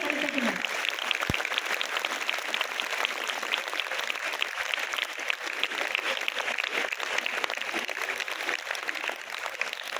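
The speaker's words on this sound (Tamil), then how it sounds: "மகிழ்ச்சியோடு கைத்தட்டினர்." An audience at a drug-abuse awareness event claps happily while an additional superintendent of police is honoured. The dense, continuous applause holds steady throughout after a short spoken phrase at the start.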